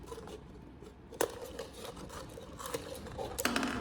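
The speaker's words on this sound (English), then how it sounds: "Use scissors to cut off the top of the bottle, about 2-3 inches from the opening." Scissors cut the top off a plastic bottle, giving close, quiet snips and crinkly plastic scraping with a few sharper clicks, over faint room noise and no talk.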